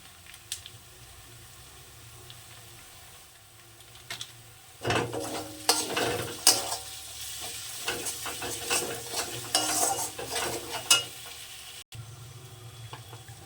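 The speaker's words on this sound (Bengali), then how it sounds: "এবার মশলাটাকে সুন্দর করে কষবো" Spices and red chili fry in oil in a pan, a soft sizzle under bursts of stirring and scraping, close and moderately quiet, with no talking.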